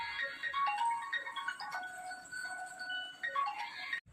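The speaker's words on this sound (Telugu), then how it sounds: "ఫోన్ వస్తున్నట్టుందా" A phone ringtone plays a bright, repeating electronic melody at moderate volume for a few seconds, then cuts off abruptly.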